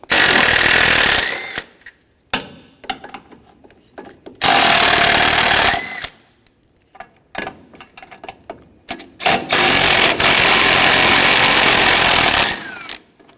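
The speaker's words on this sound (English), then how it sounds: "Using a 13mm socket on both sides, there's 3 nuts, 1 on top and then 2 underneath." A 13mm socket on a ratchet or power tool spins off nuts on a 2007-2013 Mini Cooper, in loud, close bursts of whirring and rattling, three long runs broken by shorter clicks and pauses, with no voices.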